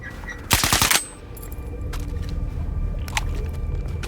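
A short, loud burst of automatic gunfire cracks out in STALKER 2: Heart of Chornobyl, a few rapid shots close together, followed by quieter ambience and scattered distant clicks.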